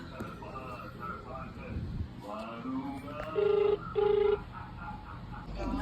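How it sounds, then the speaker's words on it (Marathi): A phone rings out on an outgoing prank call, two steady electronic ringback tones sounding close and clear over low background noise and faint voices. "आता आपण प्रँक करणार आहोत मुन्नीचा रिझल्ट आहे तर आपण मुन्नीला लावू फोन"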